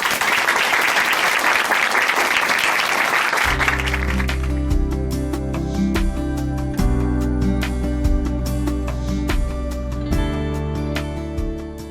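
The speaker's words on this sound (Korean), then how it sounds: "박수로 모십니다." Audience applause at a Korean church testimony broadcast, loud sustained clapping for a few seconds before music swells in and carries on over the tail of the clapping.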